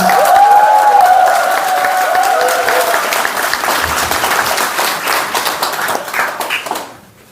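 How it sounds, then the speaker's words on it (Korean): Crowd at a party's founding convention giving a committee chairman loud, sustained applause, dense clapping with some cheering that swells and then fades out abruptly at the end. "새로운 인천 당원들의 목소리를 힘차게 대표하신 김중훈 위원장께 큰 박수 부탁드립니다."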